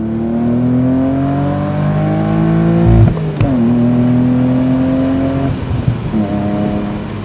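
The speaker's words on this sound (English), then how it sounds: "Here, I'll get on it a little bit here." BMW Z3M Roadster with a 240-horsepower engine accelerating hard from inside the cabin, steady loud engine drone rising in pitch through the gears, with brief dips at each shift.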